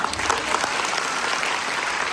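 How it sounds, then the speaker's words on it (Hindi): Audience clapping at a motivational talk, a dense steady wash of many hands that holds loud and even throughout, with no voices over it. "मगर ये तालियां क्यों बज रही है मैं आपको बताता हूं।"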